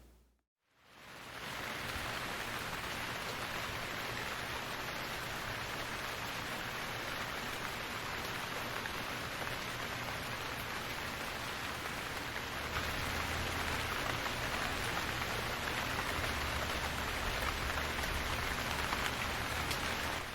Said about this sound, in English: We woke up today in Whitehorse, and it's raining.